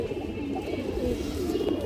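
A healthy pigeon, a large hen with pearl eyes and a short beak, coos in a continuous soft, low rumble close by, with other birds faintly behind.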